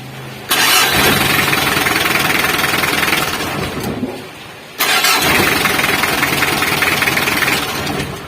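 A Mitsubishi L300 engine cranks and fires after a starter relay and wiring repair, then runs loud and close. It dips briefly near the middle before starting again and settling into a steady idle.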